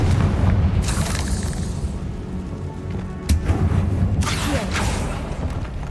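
Confringo fire spell explosions in the Hogwarts Legacy video game, a loud rumbling boom with crackling bursts recurring across the span and a dense low roar beneath.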